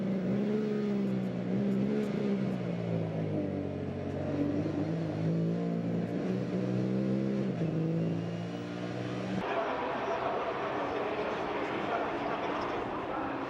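Porsche Carrera Cup race cars accelerating together off the start line, a dense pack of engines revving and rising through the gears, loud and continuous, with a commentator talking over it.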